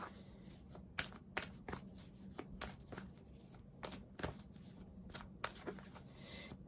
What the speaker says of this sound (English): I'm going to pull one more card here.